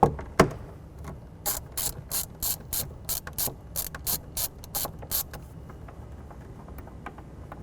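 A hand ratchet loosens the soft top bolts on a 2011 Jeep JK, giving rapid bursts of sharp metallic clicking in a repeated stroke rhythm, close up in a quiet space.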